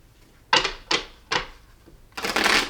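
Tarot cards being shuffled by hand: three short, crisp riffling bursts with pauses between, then a longer, denser shuffle at the end, close and fairly quiet with no talking.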